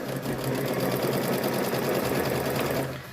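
A sewing machine runs steadily for about three seconds, stitching fabric strips together for a rope bowl and placemat, with a continuous close whirring drone that eases off at the end.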